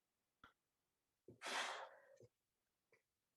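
A single close sneeze, a breathy intake followed by a burst of air, with small breaths and mouth sounds around it in a quiet room.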